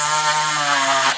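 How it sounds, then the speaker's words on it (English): Steady whining grind of a rotary tool cutting into a plastic taillight housing from a 1/14 Tamiya RC truck, a constant high buzz with strong tonal harmonics that holds for about a second, close and alone. "just finish grinding that out on both sides"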